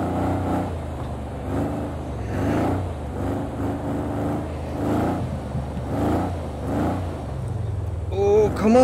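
A rear-wheel or all-wheel drive car revs its engine in third gear while the wheels spin on ice, the engine rising and falling in repeated surges, close and steady.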